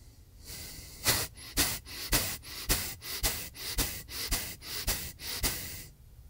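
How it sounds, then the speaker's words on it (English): Sharp, forceful breaths pushed out through the nose in a yoga breathing exercise repeat in a steady, quick rhythm, about a dozen close-up snorting exhales with no talking. "really quick you exhale almost all the air out with your nose"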